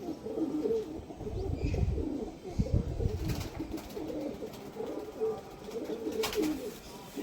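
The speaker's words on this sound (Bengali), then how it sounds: "পুরো বন্ধ লেজের পায়রা, পায়রা ছটপট করছে" Closed-tail teddy pigeons, high-flying Pakistani birds, coo in low, rolling murmurs with a scuffle of restless fluttering, fairly close and steady throughout.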